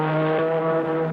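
A low, steady droning hoot imitates an ocean liner horn, one sustained blast just over a second long, close and loud.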